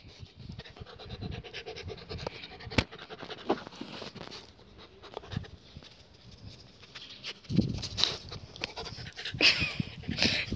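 Rapid, breathy dog panting up close, with scratchy rustling and a few sharp knocks, growing louder and busier near the end.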